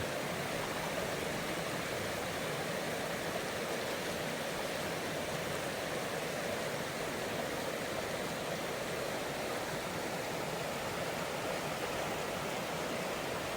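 Water rushes steadily and continuously, a dense, even roar like a stream or small waterfall close by, with no voices.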